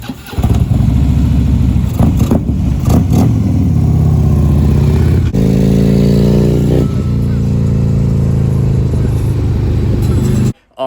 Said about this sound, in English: They're a 4-inch muffler and they're deep and they just sound like thunder going down the road